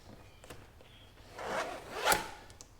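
A zipper on a Jeep soft top is pulled in a couple of short, quiet rasping strokes, close by with no talk.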